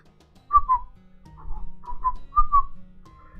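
A person whistles a short tune of several clear, wavering notes in a loose rhythm, with soft low thumps underneath and no talking.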